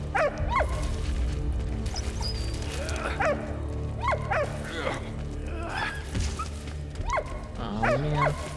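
A dog in the World War video game Valiant Hearts barks and whimpers repeatedly, short yips and whines spread across the span over a steady low game soundtrack.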